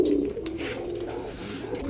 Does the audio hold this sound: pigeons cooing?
yes